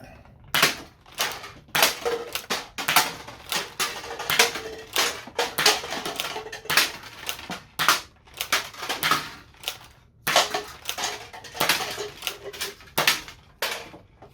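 A 20-shot firework cake from Radioactive Designs fires a rapid series of sharp, crackling bursts at steady intervals, with brief gaps between volleys, loud and fairly close.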